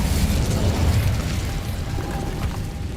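A fire spell cast in a video game makes a loud, close whooshing burst with a deep rumble. It fades into a sustained crackling roar, and nobody speaks over it.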